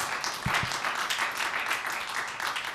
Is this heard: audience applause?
yes